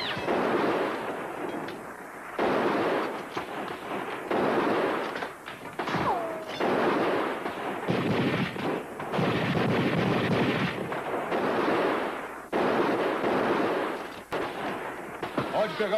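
Gunfire rings out in a 1955 western film shootout: repeated loud shots and rapid volleys, some with echoing tails, filling most of the scene with brief gaps between bursts.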